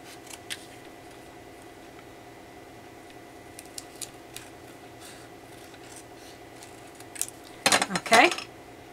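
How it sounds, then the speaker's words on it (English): Scissors trim card paper for a handmade Christmas card, giving a few faint snips and clicks early on, then a louder burst of crisp cutting and rustling near the end, against a quiet room. "take my scissors and trim the same amount on the other 2 sides."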